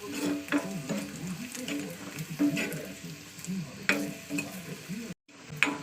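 Peanuts sizzling and rattling in a hot pan, stirred repeatedly with a utensil scraping and clicking in an uneven rhythm, close and fairly loud.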